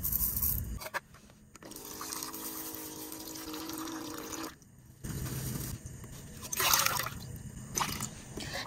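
Rice being rinsed with water in a lightweight titanium camping cup with a perforated strainer lid, with sloshing, trickling and dripping water that comes and goes in bursts, close up, with no talk.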